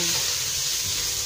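Ground pork sautéing in a small amount of oil for a spaghetti sauce, giving a steady, close, broadband sizzle that holds evenly from start to finish with no voices.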